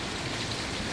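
Heavy rainfall in Slovenia pours down in a thick, constant roar of drops, loud and close, with no voices or pauses over the short stretch.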